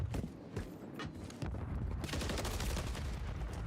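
Submachine gun fire in the shooter game Call of Duty: Modern Warfare III during a competitive match, rapid bursts of automatic shots crackling in dense volleys, fairly loud and continuous toward the end.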